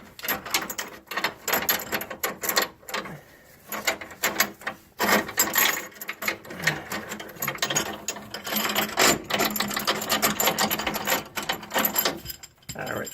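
Ratchet clicking while a bolt and clamps are removed, with bursts of rapid pawl clicks and mechanical rubbing in close, irregular runs separated by brief pauses, no talk.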